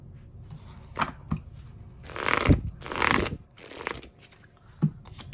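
Tarot cards are shuffled and drawn close by, with soft riffling swishes in a couple of longer bursts and a few sharp card snaps between them.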